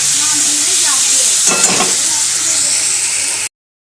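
Chicken goes into a hot pan with capsicum, tomato and onion, sending up a loud, steady sizzle with stirring scrapes on top, close by, before cutting off abruptly near the end.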